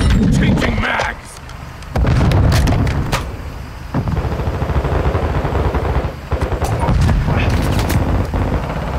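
Loud, close automatic gunfire from Call of Duty: Modern Warfare 2 rattles in rapid bursts with sharp single shots and brief pauses. A heavier rumbling blast sounds early on, and game voices speak over the shooting.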